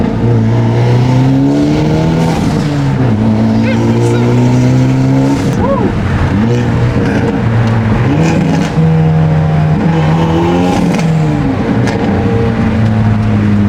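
A 2023 Hyundai Elantra N engine with a blow-off valve revs up and down repeatedly, loud and close, with a steady drone between the climbs and quick releases after each rev.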